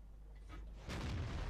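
A tank gun in World of Tanks, a VK 30.02 (D), fires a high-explosive shell, one sudden booming blast after a quiet stretch, the rumble lingering to the end.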